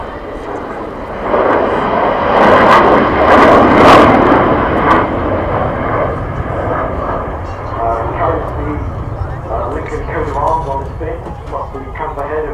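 An Avro Vulcan jet bomber roars overhead at the Waddington air display in 2010, a broad loud engine rumble that swells and then slowly recedes, with people talking nearby.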